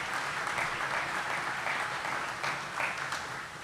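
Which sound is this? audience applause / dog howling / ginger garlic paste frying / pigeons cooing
audience applause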